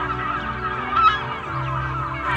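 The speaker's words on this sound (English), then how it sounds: "Watch what happens when I make the birds too loud." Geese honking loudly and continuously, mixed too prominently over a steady low ambient bed in drone footage sound design, with overlapping calls and no speech.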